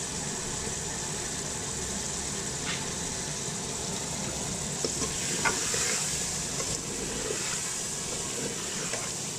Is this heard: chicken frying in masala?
yes